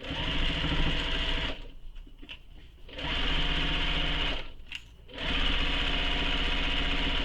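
A domestic sewing machine stitches a backpack seam in a steady close whir, running alone, stopping twice briefly and then restarting.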